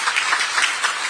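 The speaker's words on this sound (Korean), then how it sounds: "특별히 박수 한번 보내주시기 바랍니다." Audience at a Korean political rally claps in steady applause, a dense, loud patter of hands filling the whole moment.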